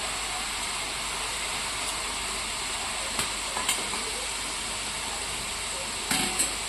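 Sev, a crisp chickpea-flour snack, fries in hot oil at home: a steady, even sizzle and hiss throughout, broken by a few faint clicks and taps of a utensil, no voices.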